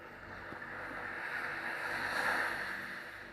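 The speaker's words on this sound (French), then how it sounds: "pendant que vous entendez le mouvement des vagues" Ocean waves wash in a steady, continuous rush that swells slightly toward the middle, fairly close and even, with no voices.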